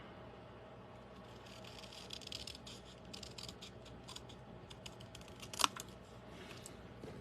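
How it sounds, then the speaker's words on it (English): Scissors snip through card stock for a fold card, a faint, soft, steady crisp cutting texture at close range with one brief sharper snip near the end, no voices. "I'm just going to use scissors"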